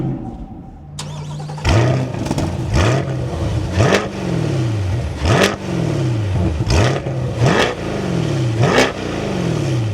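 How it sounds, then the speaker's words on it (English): The V8 of a Chevrolet Corvette C8 2LT cranks and catches, then gives about six sharp, loud revs. Each climbs quickly and falls back toward idle, recorded close by with no talking. "let's fire this up again, get some revs with that V8."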